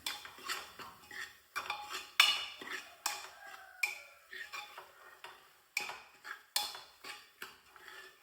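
A spoon stirs turmeric and coriander powder into food in a pan, giving a series of sharp metallic scrapes and clinks in an irregular rhythm, close and clear with nothing else behind them.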